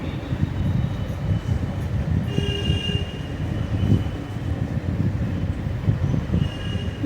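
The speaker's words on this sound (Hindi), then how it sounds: "दूसरी वाली मेट्रो में हम लोग बैठ गए हैं।" A Delhi metro train runs toward Dhaula Kuan, giving a close, steady rumble of wheels on rail inside the car with brief high squeals and no talk.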